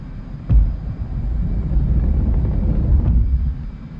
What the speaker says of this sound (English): you just bring the throttles up to full power and the catapult will launch you off the deck